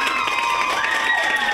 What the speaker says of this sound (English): A thundering applause from her peers